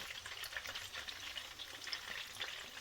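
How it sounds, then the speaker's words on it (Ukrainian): Pieces of fish sizzle and spatter in a frying pan, a steady close crackle of hot oil with scattered pops throughout and no talk. "При смажінні ні в якому разі не відходьте від сковорідки, бо смажиться вона дуже швидесенько"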